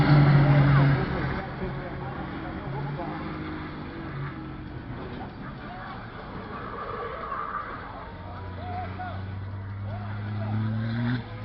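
A Formula Truck racing truck drifts through a curve at the Campo Grande track, its engine droning and shifting pitch in the mid-distance while someone talks over it throughout.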